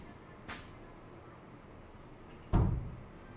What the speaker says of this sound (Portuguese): Ele escuta passos e aí a porta que tá lá no fundo fecha.